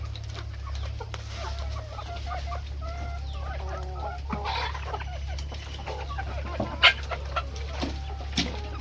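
Country chickens cluck and murmur softly in a group while drinking water in the morning, over a constant low hum, with scattered short calls and a few sharper squawks toward the end.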